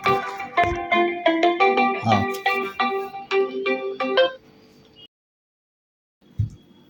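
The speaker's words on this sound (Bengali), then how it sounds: "এখন আবার কে ফোন করছে?" A phone ringtone plays a bright, repeating electronic melody of steady pulsed notes for about four seconds, then cuts off into near silence, followed by a brief thump near the end.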